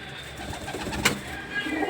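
Pigeons coo softly in a loft where cocks and hens have been separated into their own boxes, low murmuring calls with faint background hiss and one brief sharp knock, no talk.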